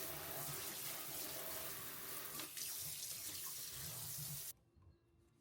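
A newly installed kitchen faucet runs steadily into the sink, a loud continuous hiss of water that cuts off abruptly near the end, leaving quiet room tone.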